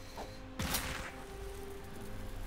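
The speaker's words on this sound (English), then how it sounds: "you can use your snapping pops to ignite things like fireworks" Fireworks go off in South Park: The Fractured But Whole, a sharp burst of crackling pops and a whooshing bang mid-clip over a low game hum.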